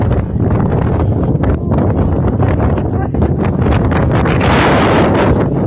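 Strong wind buffets the microphone on a mountain at Mt. Riwata, Rizal, a loud continuous roar with rustling gusts throughout, building toward the end.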